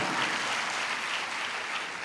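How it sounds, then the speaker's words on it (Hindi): Steady applause from an audience at a motivational poetry show at SEZ University, Indore, filling the room evenly and continuously without voices. "जरा जोरदार तालियों से आप आगाज कीजिए"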